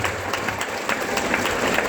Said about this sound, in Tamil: கைத்தட்டுங்க ஆயா.